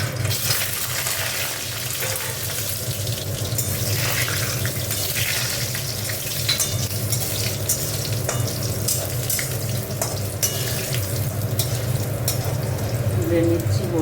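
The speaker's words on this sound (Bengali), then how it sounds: "দেখো বড়িটা একটু ভেজে নিচ্ছি" Bori lentil dumplings fry in hot oil in a wok, a continuous dense sizzle with occasional stirring clicks and a low steady hum underneath.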